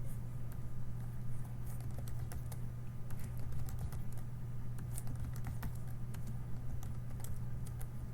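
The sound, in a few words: typing on a computer keyboard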